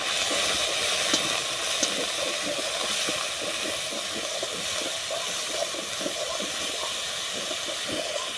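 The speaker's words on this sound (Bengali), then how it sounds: "আদা, পেঁয়াজ, কাঁচা লঙ্কা ভেজে নিয়েছি।" Garlic, ginger, onion and green chilli fry in oil in a village kitchen wok, giving a steady, even sizzling hiss with faint pops throughout.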